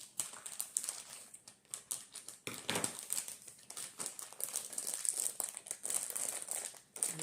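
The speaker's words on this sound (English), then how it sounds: "I'm going to cut it so I don't have to keep fighting with this bag." Plastic bag of mild cheddar cheese crinkling and rustling continuously at close range while being handled in a home kitchen, with bursts of sharp crackles.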